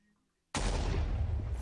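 Single heavy tank cannon shot in a video game tank mod, a sudden loud blast that cuts in from near silence and rolls on as a dense, sustained roar.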